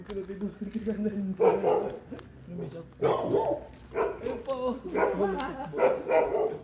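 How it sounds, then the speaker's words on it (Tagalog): A large dog barks and yips in short bursts outdoors on a cold day, heard close and mixed with people talking over it. "Ang laking aso."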